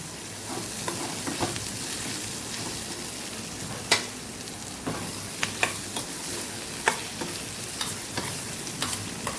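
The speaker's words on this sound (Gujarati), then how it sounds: "આવી રીતે આપણે મસાલા સંભારા સાથે લોટને પણ સાતળી લેશું" Gram flour being stirred and sautéed with spices in a pan for a Gujarati thali dish, continuous sizzling under sharp scraping taps of the spoon, close and moderate in level, with no talking.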